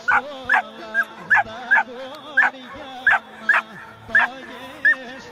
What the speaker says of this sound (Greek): Πάρετε τα σκυλιά με καμένους εγκεφάλους.